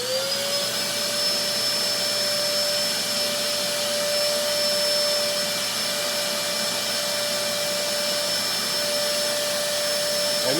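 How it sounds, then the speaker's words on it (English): A shop vacuum switched on during guitar neck leveling, drawing off sanding dust, a loud steady whine with a high constant tone that runs unbroken throughout, with no talk. "let me turn my vacuum on here"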